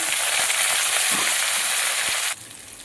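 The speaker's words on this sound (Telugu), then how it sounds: "తాలింపు వేగిపోయింది" Curry leaves sizzling in hot oil with mustard and cumin seeds for a tempering for a pickle, a loud, dense crackling sizzle close by that cuts down sharply to quiet near the end.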